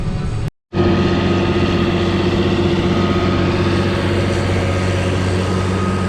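A tractor engine running on a hay-chopping job with a CLAAS 820 chopper, a loud steady drone with a constant hum that drops out for a moment near the start and then carries on unchanged.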